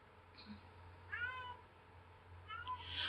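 A cat shut in a bedroom meows twice, close and fairly loud, over a steady low hum, the second call longer and drawn out.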